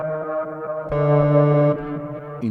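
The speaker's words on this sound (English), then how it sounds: "I added a filter on the reverb trail, as you can hear, that creates this sort of texture, sort of lo-fi" Sustained chordal tones pass through a Meris LVX delay pedal set to a filtered reverb with a lo-fi texture. The sound is smooth and droning, shifting pitch midway and then fading into a darker tail.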